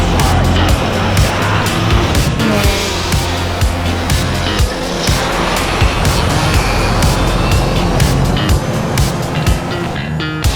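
A Tesla Cybertruck drives fast on a race track, its steady road and motor roar loud and continuous throughout, with rushing wind and tire noise and no talk.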